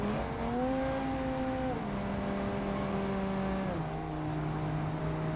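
A car engine drones steadily in the driving simulator BeamNG.Drive, a continuous hum that steps down in pitch at each gear change, close and unbroken, with no voices.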